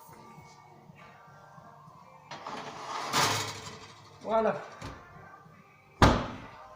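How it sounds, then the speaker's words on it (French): An oven door is handled during cake baking, with clunks and a metallic creak of the hinge followed by a sharp bang at the end, while voices speak over the kitchen noise. "Ouvre le four, s'il te plaît."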